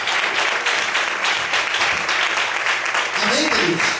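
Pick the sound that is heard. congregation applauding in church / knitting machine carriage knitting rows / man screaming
congregation applauding in church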